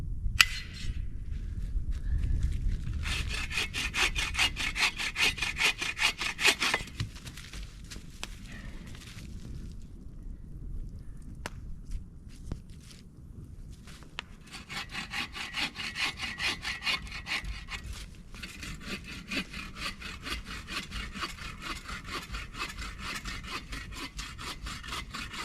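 A hand saw cuts wet firewood outdoors in a spring forest, fast rhythmic back-and-forth rasping strokes in two long bursts with a quieter pause between, close and alone.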